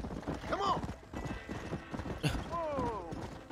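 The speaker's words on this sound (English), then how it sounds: "There's a little horse." Horse hooves clip-clop in Red Dead Redemption, with two bright, falling whinnies near the start and again toward the end, heard under steady game sound.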